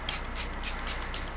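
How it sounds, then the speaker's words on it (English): A moisturizing facial spritz is misted onto a face from a small spray bottle, giving several short, soft hissing bursts in quick succession, close by, over a low steady background hum, with no voices. "hold 6 to 10 inches away and spritz on your face"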